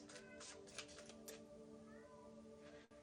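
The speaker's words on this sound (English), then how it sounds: "Sorry if you guys hear my cats." Male house cats kept apart during mating season meow and yowl repeatedly at close range, their plaintive cries rising over a steady background hum.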